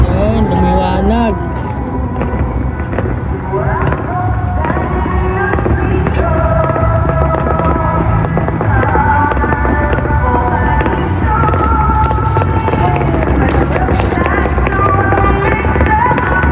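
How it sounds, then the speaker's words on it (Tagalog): Fireworks bursting over Greenland, dense continuous booms and crackles throughout, loud and layered with whistling rises, while people talk excitedly over them. "Ang ganda na yung fireworks oh."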